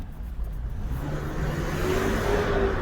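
Toyota car engine revving in a repair shop during a test after a fix with a Mitsubishi part, a steady close engine drone rising slightly in pitch toward the end, with no talk over it.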